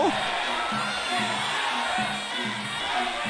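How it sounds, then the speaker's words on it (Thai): Crowd at a Thai boxing match cheering in rhythmic chants, a dense roar of many voices with repeated pulsing shouts beneath, steady and loud throughout while a commentator talks over it. "กองเชียร์ทั้งในเวทีหันมาเชียร์แสนรักบ้างเอา"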